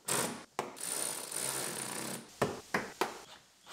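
Screws are driven into the passenger-side wheel liner of a 2017 GMC Terrain SLE. A long rough mechanical whir gives way to three or four short, sharp bursts, close and moderately loud.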